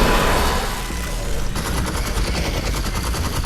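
Gunfire in the VR shooter Half-Life: Alyx: a dense burst of rapid shots, then a steadier stream of rhythmic automatic fire, loud and close throughout.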